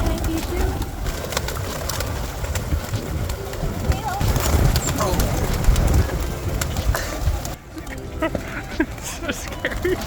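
A large flock of pigeons being fed in the Company's Garden park in Cape Town, a steady mass of cooing and fluttering wings close by, with faint voices in the background.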